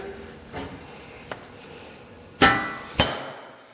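Two sharp hammer blows on a homemade tool cut from 1/2 inch black pipe, squaring the end of a louver on a 1927 Tall T coupe battery and storage box, preceded by lighter taps; close, loud and alone.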